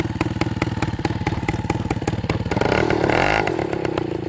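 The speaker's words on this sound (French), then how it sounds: "Ouais, ça s'entend qu'il n'y a rien dans le pot quand même." Old Mobylette moped engine running with an empty exhaust, a fast steady popping putter close up, swelling into a louder rev near the middle before settling back.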